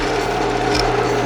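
A woodturning tool cuts shavings inside a spinning wooden bowl, giving a close, steady scraping rasp with a faint rhythmic thump from the lathe.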